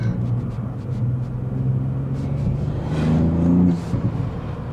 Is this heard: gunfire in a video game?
no